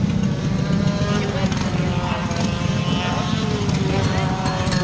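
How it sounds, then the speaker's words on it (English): LO206 racing kart engines idling and revving together at the track, a dense, steady low rumble filling the whole stretch with no letup. "We've got engines firing up"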